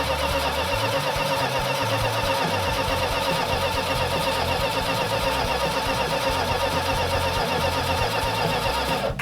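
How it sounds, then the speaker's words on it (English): A 1970 Plymouth 'Cuda engine runs steadily with a metallic tappet-like ticking, a loud, close, continuous idle filling the whole stretch without talk. "we've got a tappet that's making noise, or some kind of metallic noise that sounds like a tappet"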